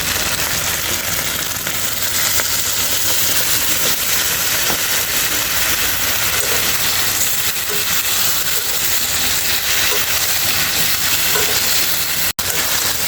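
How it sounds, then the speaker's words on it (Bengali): Potatoes and pointed gourd stir-fry in hot oil with spices, making an even, continuous sizzle and hiss throughout, close and fairly loud, with no talking. "এখন ভালো করে নাড়া করে তেলের মশলার সাথে আলু পেটেলগুলো ভালো করে কষিয়ে নেব"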